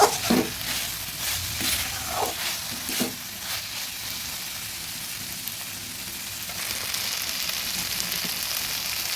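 Water goes into a frying pan holding onion stalks and punti fish, with a few sharp bursts at first, then a steady, even hiss and sizzle that brightens near the end; close, no voices.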